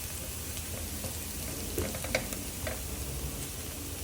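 Garlic fries to golden brown in a pan, giving a soft, steady sizzle with a few faint crackles and a light stir, no voices over it.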